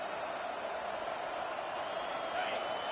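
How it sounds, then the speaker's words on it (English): Steady roar of a large stadium crowd at a football game, a constant wash of cheering and chatter with no pauses, loud and enveloping throughout. "This crowd bringing the energy and noise early"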